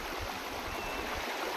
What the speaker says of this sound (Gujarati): હજી આમાંથી બાગમાંથી પણ જો કેટલું બધું પાણી નીકળે છે